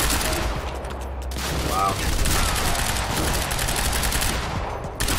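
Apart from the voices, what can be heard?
gunfire in firefight in video game Quantum Break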